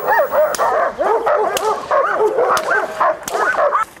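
Trained police dogs at a Perm canine training centre bark and yip repeatedly, several animals overlapping in a loud, continuous chorus close by.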